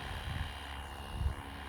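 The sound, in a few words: Flywing Bell 206 RC helicopter taking off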